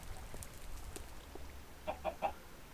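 Short run of chicken clucks from a video game, three quick soft calls near the end over a steady low background hum, faint and somewhat distant.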